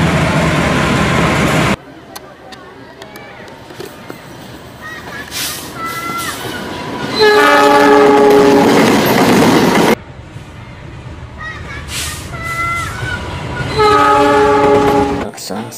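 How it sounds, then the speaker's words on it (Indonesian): Cargo train wagons roll past with steady rumbling and clickety-clack, loudest in two close passing bursts with tonal squeal or horn-like harmonics, separated by quieter stretches. "Gerbong Cargo."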